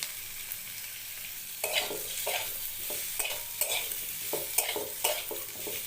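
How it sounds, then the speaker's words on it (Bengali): Paneer and mixed vegetables frying in a pan, a steady sizzle broken by a regular series of scraping stirs from a spatula, close and clear with no talking. "ভেজে নেব পনির আর সবজিগুলো"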